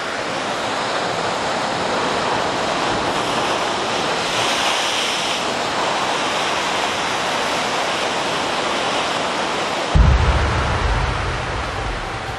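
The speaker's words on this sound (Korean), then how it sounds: "마을의 반대편 해안은 늘 거센 파도에 크게 술렁입니다" Rough surf pounding the coast of Christmas Island, a loud, unbroken roar of crashing waves with a deeper surge near the end.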